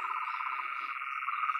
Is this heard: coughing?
no